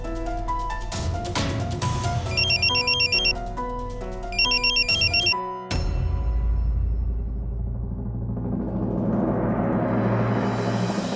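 A phone rings with repeated electronic trills in two bursts over background music, then a sudden loud swell takes over.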